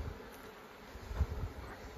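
Honey bees hum softly at an open beehive during a July honey-harvest check, a faint continuous buzz with a few passing louder drones.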